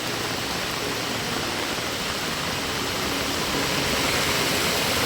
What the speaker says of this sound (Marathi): हे बघा कसलं पाणी जाते फोर्सने